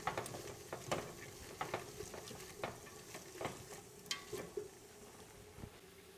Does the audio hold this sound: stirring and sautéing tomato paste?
yes